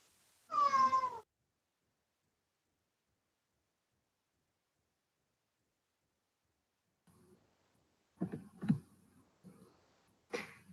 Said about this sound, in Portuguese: E tem um gato que está miando aqui